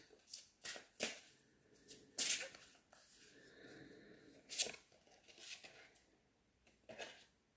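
Oracle cards shuffled for a reading, heard as quiet papery flicks and soft riffles in irregular bursts, with a few sharper snaps, close and intimate with no speech.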